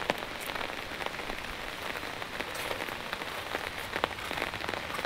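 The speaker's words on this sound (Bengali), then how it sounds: "দেখো বৃষ্টি পড়ছে" Steady rain patters onto an open household courtyard, dense drops ticking and splashing close by at an even rhythm, with no voices.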